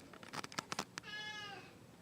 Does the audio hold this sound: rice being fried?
no